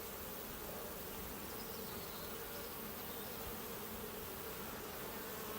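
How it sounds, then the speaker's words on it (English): Many honeybees buzz in a dense, steady drone close at hand around a hive. The hum stays even and continuous with no voices. "You see loads of bees coming and going."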